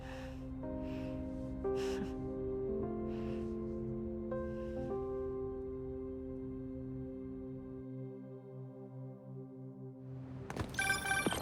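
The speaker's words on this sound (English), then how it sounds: "That was my friend Angela on the phone." Phone ringtone in the Spider-Man 2 video game: a clear electronic melody of sustained stepping tones, fairly close, ending in a short burst of brighter noise.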